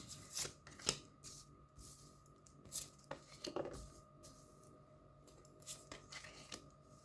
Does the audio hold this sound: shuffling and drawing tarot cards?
yes